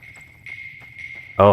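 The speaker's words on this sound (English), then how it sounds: "the crickets have started. That means sunset is on the way." Crickets chirp in a steady, thin trill at sunset in the video game Fallout: New Vegas, heard alone at moderate level before a brief louder burst at the end.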